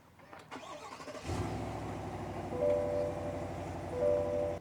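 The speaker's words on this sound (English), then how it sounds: "So we'll go ahead and jump inside and start it up." A 2023 Chevy Tahoe High Country SUV engine cranks briefly and catches, then settles into a steady idle with a couple of slight revs, heard from inside the cabin.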